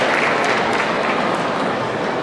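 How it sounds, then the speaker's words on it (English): An audience breaks into dense, steady applause to welcome Feng Shui master Paul Ng onstage at an evening event on the year of the rooster, with clapping filling the whole moment at an even, loud level. "let's give a big round of applause"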